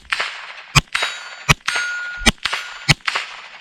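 Sharp metallic clangs ring out four times at a steady pace, each followed by a lingering ring, as bullets from a Tippmann Arms M4-22 Pro rifle strike a steel gong target.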